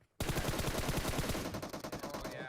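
Automatic gunfire in the mobile shooter PUBG Mobile: a single sustained burst of rapid, evenly spaced shots starts abruptly and runs over two seconds, fairly close and dense, with no talk.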